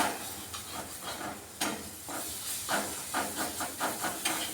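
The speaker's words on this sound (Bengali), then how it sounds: "মশলাটা ভাজা ভাজা করলাম।" Spice masala for egg curry frying in a pan, a soft steady hiss and sizzle broken by short scraping stirs at an even rhythm, fairly quiet and close.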